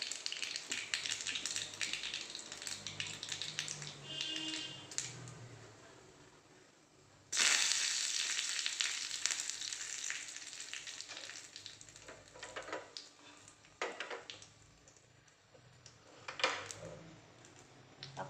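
Mustard seeds, dried red chillies and curry leaves fry in hot oil for a raw mango pachadi, with a constant crackling sizzle and sharp pops. A burst of loud spattering comes partway through.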